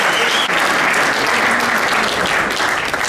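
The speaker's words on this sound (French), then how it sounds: "Je vous prie d'applaudir bien fort pour tous les artistes." An awards ceremony audience applauds the artists in a dense, loud, continuous wash of clapping that holds steady throughout without a break.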